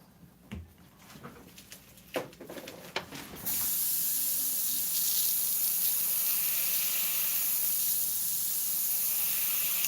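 Airbrush spraying paint for a burning matchstick artwork, a few sharp clicks and brief bursts, then a loud continuous hiss of spray that runs steadily to the end.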